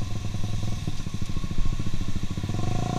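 A Honda CBR150R Repsol Edition motorcycle with a modified exhaust accelerates close by, its engine firing in a rapid, rising pulse that climbs steadily in pitch over a few seconds.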